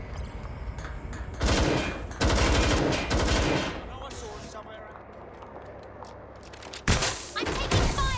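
Bursts of rapid automatic gunfire in the Xbox One game Watch Dogs Legion, loud and close, in two heavy volleys separated by quieter stretches, with a voice shouting over the shooting.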